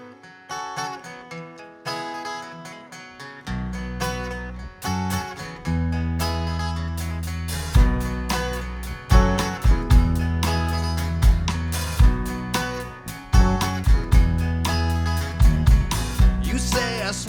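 A band plays rockabilly and outlaw country music in a studio, opening with sparse guitar before the full group kicks in with a driving, punchy rhythm and loud, steady drum accents.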